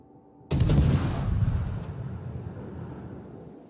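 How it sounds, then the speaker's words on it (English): An artillery strike hits a designated target in a video game: one heavy, sudden boom followed by a long rumbling decay, with no talk over it. "All stations requesting fire on the designated target."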